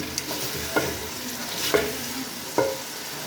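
Meat masala for kaddu gosht frying in a pan, a constant close sizzle broken by three distinct scraping strokes of a spatula at a slow, even pace, no voices.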